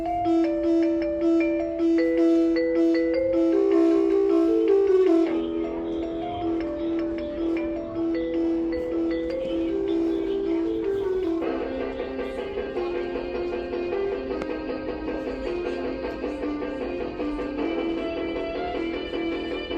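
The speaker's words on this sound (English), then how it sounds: "the music that it plays, of course, isn't licensed and sounds nothing like the Halloween music." A Michael Myers animatronic plays a tinny, repetitive Halloween-style electronic tune with sustained synth tones and shifting melody sections, steady and moderately loud with no talk.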